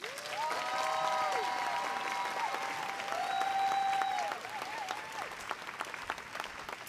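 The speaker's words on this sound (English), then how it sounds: "You may now applaud the graduates." An audience at a university commencement ceremony applauds the graduates with sustained clapping, steady at first and then tapering off. Organ or sustained musical tones play underneath.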